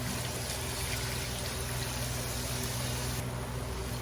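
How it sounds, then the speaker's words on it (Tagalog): Water poured into a pan of cooking chicken feet gives a continuous close hiss and trickle that holds evenly from start to finish, with no talking over it. "Tapos, dagdagan po natin ng kanyang tubig."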